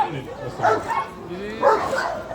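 A Sharplaninac shepherd dog barking at a pet festival in Macedonia, two deep, full barks about a second apart, close and loud with some whimpering undertone and faint background voices.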